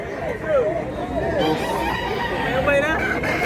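Gilmore gamefowl roosters crow at a farm in Mantalungon, Cebu, with several overlapping crows close by against steady background noise and faint voices.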